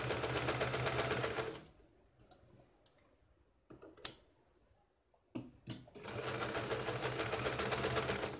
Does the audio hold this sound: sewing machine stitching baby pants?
yes